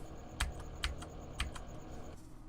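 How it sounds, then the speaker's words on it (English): Keys tapped on a computer keyboard while playing a farming simulator game, a handful of crisp, separate clicks at an uneven pace, soft and close over a low background hum. "Gotta figure out my shortcuts on my keyboard here."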